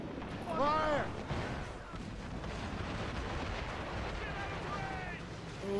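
Ship cannons firing in a naval battle aboard a sailing warship in Assassin's Creed Rogue, a heavy booming salvo early, then rumbling aftermath beneath a voice shouting orders.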